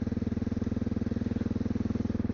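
A Honda XR650L single-cylinder motorcycle engine drones steadily while riding at speed, a loud, rhythmic thumping pulse with no voices.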